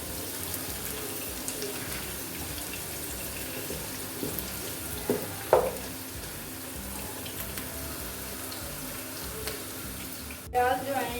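Finely chopped onions frying in oil in a pan, a steady soft sizzle with a light watery hiss, moderately close and continuous, with a few brief clinks near the end.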